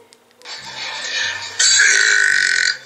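A long, loud burp from a burping challenge rises after a brief pause and swells stronger midway, sounding close and continuous for over two seconds with no talk.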